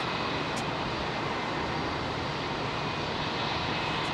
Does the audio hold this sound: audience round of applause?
no